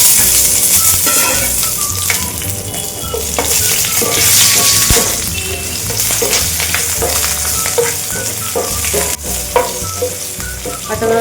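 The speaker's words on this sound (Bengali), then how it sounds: "কাঁচা লঙ্কা যে কাঁচা গন্ধটা চলে গেছে, ভাজা ভাজা হয়ে গেছে।" Green chilies, mustard seeds and dried red chilies frying hard in a pan of oil, a loud close sizzle with frequent clattering stirs and scrapes of a utensil against the metal over about eleven seconds, with no voices.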